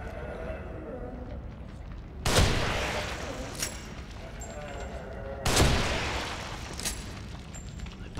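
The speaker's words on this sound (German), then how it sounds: "Ein paar gezielte Schüsse." Two heavy gunshots from the video game The Evil Within, spaced about three seconds apart. Each is a sharp, loud blast with a lingering echoing decay over a low background rumble.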